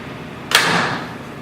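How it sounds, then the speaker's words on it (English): A metal hinge bracket on a cabinet door snaps shut against the door with one sharp, loud snap and a brief metallic ring fading quickly, close up. "close the hinge bracket so that it snaps with force towards the door"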